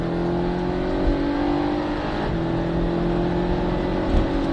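A Porsche 718 Cayman S at full throttle on a track, its engine droning loud and steady with a strong tonal hum that rises slightly in pitch as it pulls, up close from inside the car.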